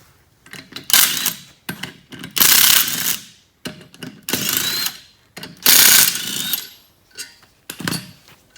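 Four hub bolts are loosened from a Nissan 240SX rear knuckle with a power ratchet. Loud mechanical bursts whir and rattle close up, each lasting about a second, broken by short quiet gaps and no talk.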